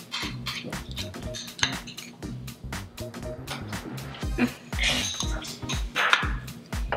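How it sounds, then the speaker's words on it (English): Kitchen clatter from peanut butter being worked in a boiling hot pan for no-bake scotcheroos, with repeated metallic scraping and clinking of utensil against pan in an irregular rhythm, close and fairly loud, under light background noise. "I'm gonna put the peanut butter into the boiling hot pan"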